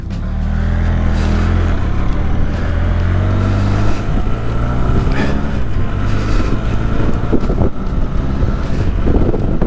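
A Benelli TRK 502X motorcycle rides along a main street in a rural Australian town. Its engine drones loud and steady under heavy wind buffeting throughout, with no one speaking.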